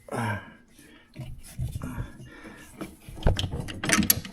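A bolt is pulled from a Ski-Doo snowmobile shock, giving faint metallic clicks, scrapes and rattling taps that grow louder toward the end, with a brief murmur near the start.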